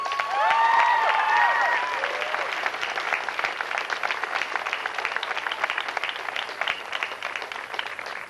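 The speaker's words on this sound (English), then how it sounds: "Let's give these students a round of applause." Audience applause at a 1992 St Mary's College graduation ceremony in Maryland, a steady wash of many hands clapping that swells early and stays sustained, with a few faint tonal sounds over it at the start and no speech.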